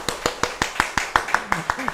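A church congregation claps in welcome for a newly registered member during a Sunday service, a steady rhythmic beat of about ten even claps with a voice speaking over the last few.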